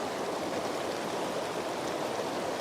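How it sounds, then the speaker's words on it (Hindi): A river near Naran in Pakistan rushes past in a steady, dense wash of flowing water, close and continuous without any pause or voices. "मैं दरिया के पास आके बैठ गई हूँ"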